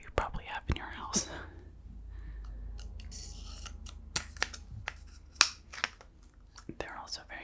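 Sharp fabric scissors are handled close up, giving scattered crisp clicks and metallic snips amid rustling, with a quiet whispering voice in between.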